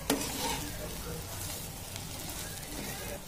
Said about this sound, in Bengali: এখন এটাতে আমি পটল ঢেলে দিয়েছি। পটলটা দিয়ে ভালো করে কষাবো।